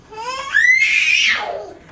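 A recorded scream plays from a Monsters, Inc. storybook, a single loud, rising wail lasting under two seconds, heard alone with no talking.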